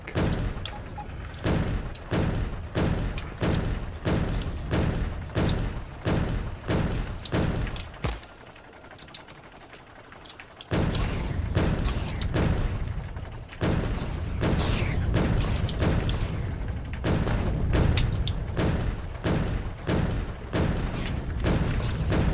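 Tank blasting biters and their nests in Factorio, a long string of loud, evenly spaced booming shots with a brief quieter gap partway through before the thudding barrage resumes.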